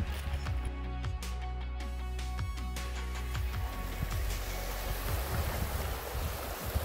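Warm thermal river water in Iceland flowing steadily past, a continuous broad rush close by with occasional soft low knocks, no voices.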